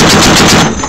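.50 caliber machine gun firing a rapid, deafening burst at close range, continuous overlapping reports that fill the moment before cutting off.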